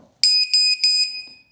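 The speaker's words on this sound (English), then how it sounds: "There's the buzzer, nice and loud. Start beeping really loudly after a little while." The buzzer on a Matek F765-WSE flight control board gives three loud, shrill beeps in quick succession, evenly spaced and sharp against near silence.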